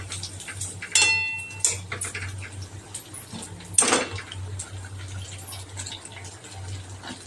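Dill greens (shepu bhaji) with salt, red chilli powder and turmeric stirred in a pan, with light metallic scrapes and clinks of a spoon against the pan and a steady low hum beneath, no voices.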